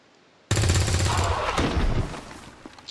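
Burst of gunfire in XCOM 2 Long War 2, an abrupt loud volley that starts suddenly and rattles on for about a second and a half before trailing off into a fading tail.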